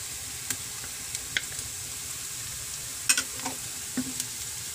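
Butter or margarine sizzling in a frying pan for garlic buttered shrimp, a steady close hiss with a few sharp crackles and pops scattered through, and no voices.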